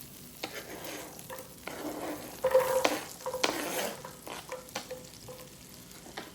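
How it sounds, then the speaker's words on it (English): Carrots sautéing in melted butter in a hot pot, a steady close sizzle with repeated scraping and clinking strokes of a stirring utensil, louder in the middle, with no voices. "Once the butter is all melted, you can add your carrots to the pot."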